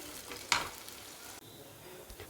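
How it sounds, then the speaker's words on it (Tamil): Onions sautéing in oil for pepper chicken, a faint, quiet sizzle with a sharp stirring scrape near the start and a couple of utensil knocks toward the end. "அந்த வெங்காயம் போட்டுக்கலாம். இதை நல்லா நம்ம வதக்கி எடுத்துக்கலாம்."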